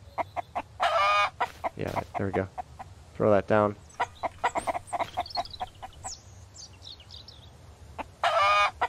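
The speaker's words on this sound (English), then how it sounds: "Oh, the chickens just got excited. Look, they're eating." Chickens clucking excitedly as they eat in the survival video game Mist Survival, with bursts of cackling close by and someone talking briefly between them.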